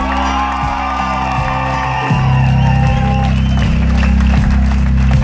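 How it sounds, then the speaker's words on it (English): Audience at a live comedy and music show applauding and whooping for veterans, a broad wave of clapping and shouts that builds and grows louder partway through, sitting under a steady musical backing. "Give them a big round of applause."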